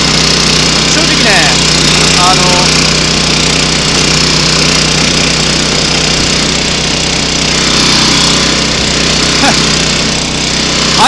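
A grass-cutting mower runs steadily and loudly along a farm field road, its engine drone continuous and close throughout with no break in the noise.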